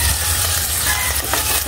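Ground meat stirred while frying in hot oil, a dense continuous sizzle with scraping stir noises, loud and close, with no talking.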